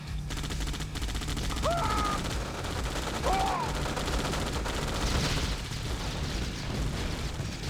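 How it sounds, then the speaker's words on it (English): Flak cannon fire against Rocketeers in the Red Alert 2 strategy game: a dense, continuous barrage of rapid gunfire bursts over game battle noise, with two brief whistling tones mid-clip and no talk. "Here we see a flag cannon for Legend to counter those Rocketeers"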